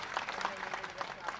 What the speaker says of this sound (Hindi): मैं आपसे निवेदन करता हूँ आदरणीय भारत सिंह जी का जोरदार तालियों से स्वागत करें।